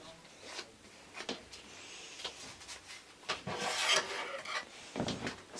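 Paper being folded in half and creased by hand to make a tiny notebook, with soft rustles and rubbing swipes, faint and close, in irregular strokes.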